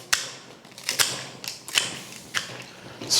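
Secateurs snip through flower stems while a wedding bouquet is trimmed to size, giving about six sharp, close clicks spaced unevenly with quiet handling between them.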